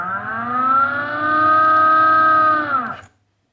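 The electric motor of a Honda CBR250R converted to electric power spins up with a loud, steady, rising whine, holds its pitch for a couple of seconds, then winds down and stops abruptly.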